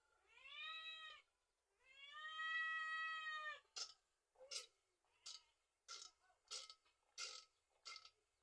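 A pet cat gives two long, drawn-out meows close by in a quiet room, followed by a series of short sharp ticking or clicking sounds.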